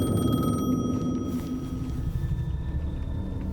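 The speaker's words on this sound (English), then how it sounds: "The payphone was ringing." A payphone rings in the video game Alan Wake 2, a steady electronic ringing tone held over a low, dark rumble, with no one speaking.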